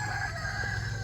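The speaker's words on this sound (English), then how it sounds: "listen to all the chickens for the rest of the video." Chickens at a rural property cluck and crow in a short burst of fowl calls, moderately faint and a little distant, without any talking.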